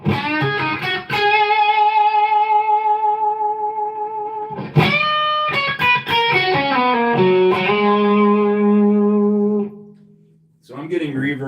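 Electric guitar notes and chords ring out through Universal Audio reverb and delay pedals, with long, lingering reverb and echoing repeats, sustaining and decaying between strums.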